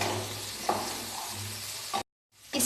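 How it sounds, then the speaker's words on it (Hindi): Spring onion fries in a pan with a soft, steady hiss and sizzle, punctuated by a couple of brief stirring scrapes, cut by a short silent gap near the end before the sizzle returns. "स्प्रिंग ऑनियन भी अच्छे से फ्राई हो ही चुका है ऑलमोस्ट।"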